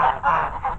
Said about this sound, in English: These are the African geese.